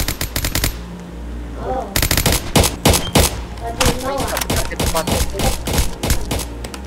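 In an SCP video game, rapid bursts of automatic gunfire crackle loudly, with a short pause before more volleys resume, and game effect sounds are mixed in between the shots.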